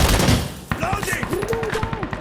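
Rapid gunfire in the tactical shooter Insurgency: Sandstorm: an initial loud burst of shots, followed by continued crackling fire under raised, shouting voices.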